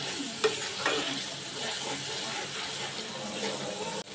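A ground spice paste for chicken roast frying in a pan, with a soft continuous sizzle and a few light stirring knocks, fairly quiet and close, with no talking.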